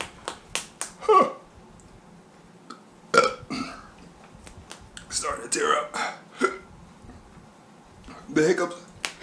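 Repeated sharp hiccups after eating the Paqui One Chip Challenge spicy chip, sounding as short, irregular close-up gulps and bursts with some breathy sounds between them.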